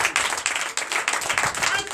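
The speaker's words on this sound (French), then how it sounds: "Donnez l'acclamation" Congregation clapping and acclaiming during a Sunday church service in Comé, Benin, a dense, steady wash of hands lasting the whole moment, with voices mixed in the crowd.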